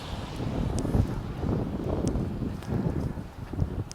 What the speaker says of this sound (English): the wind's catching it